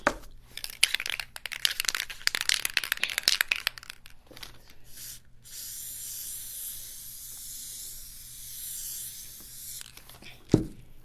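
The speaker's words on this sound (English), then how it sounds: "I'm gonna do a layer of adhesive, the spray adhesive." A can of spray adhesive hisses in a long steady spray, preceded by crinkling and rustling handling noises, with a sharp knock at the end.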